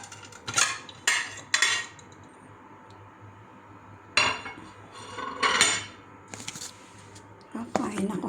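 Cutlery clinking and scraping on a plate while someone eats pasta with creamy mushroom sauce, several sharp separate clatters with pauses between them, close and fairly quiet, with people talking around them.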